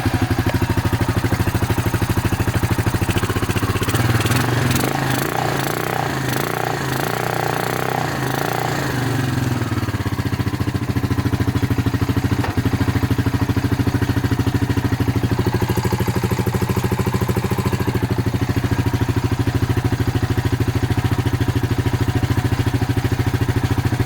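A Honda Rancher 350 quad idling with its airbox removed, a steady, loud, close mechanical drone with clattery uneven pulsing early on that settles into an even running note.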